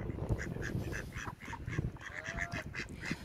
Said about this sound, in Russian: Одна утка и пять селезней.